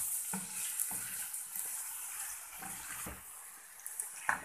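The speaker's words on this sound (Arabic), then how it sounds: "يا دوبك شويه كده يتشوح كده مع اللحمه والبصل كده" Vegetables with meat and onions sauté in a pan for a white-sauce pasta, a faint steady sizzle broken by a few soft stirring knocks and scrapes.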